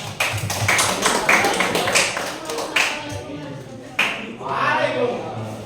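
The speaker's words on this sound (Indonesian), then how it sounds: "tepuk tangan untuk kelompok 2 ya" A small group claps for a team in a classroom-style session, with irregular, close claps in uneven bursts and a voice briefly audible.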